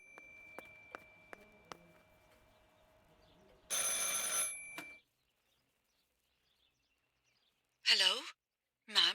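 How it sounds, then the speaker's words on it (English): A telephone in the video game Martha is Dead rings once in a loud burst after a few faint clicks, then goes silent before a voice speaks briefly near the end. "I should pick up the phone but remain silent."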